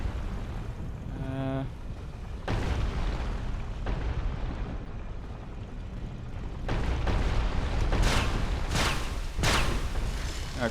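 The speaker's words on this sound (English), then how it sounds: "Looks an awful lot like we can't help but set off a bunch of turrets." Turrets fire in Dark Souls: Remastered as a run of loud booming blasts and bursts, several heavy explosive hits spread across the stretch with rumbling noise between them and no talk.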